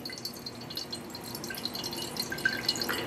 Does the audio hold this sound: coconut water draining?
yes